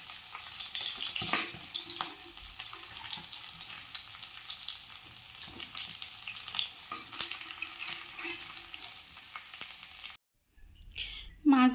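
Pieces of katla fish frying in hot oil give a steady, close crackling sizzle for about ten seconds, with occasional stirring scrapes, before it cuts out and a short louder clatter follows.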